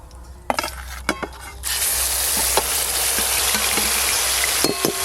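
Onion paste drops into hot mustard oil in a pan, bursting into a loud, sustained sizzle after a few clinks of a utensil, with more clinks near the end.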